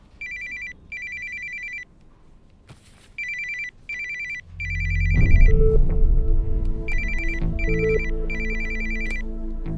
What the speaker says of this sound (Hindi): फोन बज रहा है, सुनाई नहीं दे रहा?